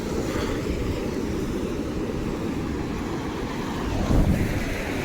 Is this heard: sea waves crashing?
yes